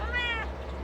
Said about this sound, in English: I needed to check on my cat.